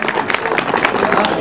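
A crowd applauds the winner of a cadet cycling race in Saint-Jouan-des-Guérets, with dense steady clapping and cheering throughout, while voices mix in.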